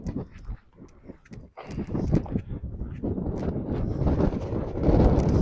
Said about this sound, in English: It's very, very windy.